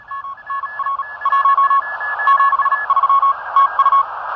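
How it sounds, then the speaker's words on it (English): Morse code received on a Radtel RT860 radio on the 40-metre HF band, a steady beeping tone keyed in short and long dots and dashes over faint hiss, with a second weaker signal alongside. "We are getting a lot of Morse coming through."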